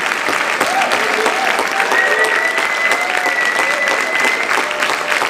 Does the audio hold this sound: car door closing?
no